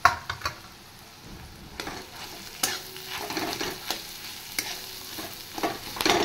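Crushed boiled potato fries in a pan as a spatula stirs and scrapes it. Repeated sharp knocks and scrapes of metal come over a quieter sizzle, all close and without speech.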